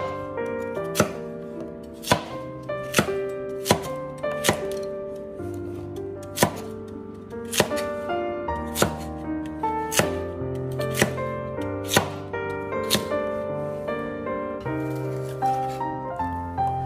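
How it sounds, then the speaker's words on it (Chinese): Knife chopping peeled radish into even roll-cut chunks on a cutting board, sharp regular thuds about once per second, close and clear over quiet background music. "接着将萝卜改一下刀，将萝卜切成大小均匀的滚刀块。"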